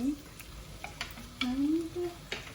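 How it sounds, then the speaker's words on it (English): Shiitake mushrooms and onion sizzle and fry in a pan, a quiet crackle with scattered clicks of a utensil stirring and a faint voice murmuring in the background. "So put in the mushroom, shiitake mushroom, and half of it leave for the onion only."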